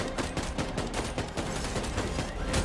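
Rapid shots crackle in the vampire battle-royale game Bloodhunt, a run of quick, evenly spaced bursts at moderate loudness with no voices over them.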